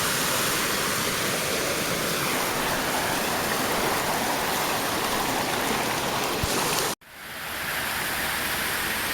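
A small woodland creek flows loudly and steadily nearby, a dense broadband rush of water that cuts out abruptly near the end before fading back in quieter.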